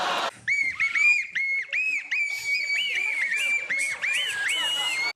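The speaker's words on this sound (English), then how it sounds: "Nose whistles, indeed." Several people blowing nose whistles on a comedy panel show, producing shrill, warbling, rising and falling tones in overlapping bursts, loud and continuous with a little crowd noise beneath.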